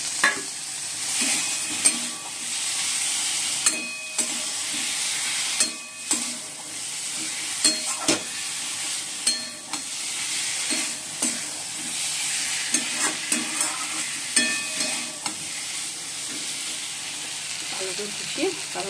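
Fried potatoes tossed into a frying pan with fish roe and spices, a loud continuous sizzle broken by frequent sharp spatula scrapes and clanks, with a voice heard faintly at times.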